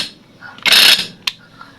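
A repaired electric impact wrench fires in one short, loud burst of hammering whirr, followed by a brief sharp mechanical click as it stops.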